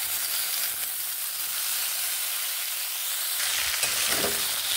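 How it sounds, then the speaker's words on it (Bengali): Flat beans fry with salt and turmeric in a hot pan, giving a steady, fairly loud hissing sizzle throughout, a little brighter near the end, with a few soft stirring sounds and no voices. "নুন হলুদ গুঁড়োগুলোকে এইভাবে মিশিয়ে ভালোভাবে ভেজে নেব।"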